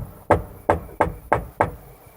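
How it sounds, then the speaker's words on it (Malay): Five firm, evenly spaced knocks on a door, close and loud, each a hollow thump ringing briefly before the next, set in a horror story. "ketukan di pintu makin kuat kedengaran"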